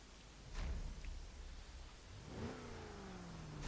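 A 1970 International Scout 800A engine in Forza Horizon 3 revs up from a low rumble, the pitch rising and falling in a couple of quiet bursts with faint mechanical rustle.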